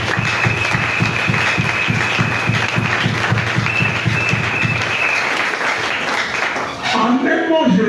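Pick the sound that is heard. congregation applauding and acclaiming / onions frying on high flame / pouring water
congregation applauding and acclaiming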